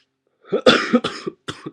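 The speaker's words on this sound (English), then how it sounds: "I'm coughing because I'm not used to that thick vapor" Several harsh coughs from inhaling thick vapor from a Blu e-cigarette, in quick bursts, close and fairly loud, with short gaps of silence between them.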